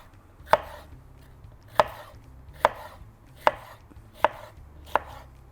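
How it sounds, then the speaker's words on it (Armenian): A knife chops vegetables on a board for vegetable kebab: six sharp, evenly spaced chops, close and clear, over a quiet room. "հիմա կտրատելու եմ փանչարեղենը ու հետո կխառնենք"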